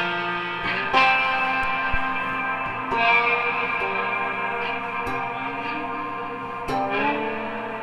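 Electric guitar notes and chords ring out with heavy reverb from a reverb pedal set to Epic, long washy tails blending together, with occasional picked attacks cutting through the sustained echo.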